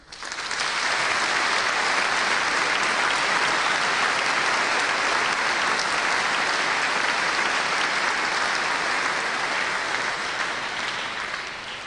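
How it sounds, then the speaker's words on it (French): A church congregation in Provence applauds after the first words of their new archbishop, Mgr Christian Delarbre: dense, steady clapping that rises quickly and holds at full strength for about twelve seconds, with no voice over it. "Nous les applaudissons."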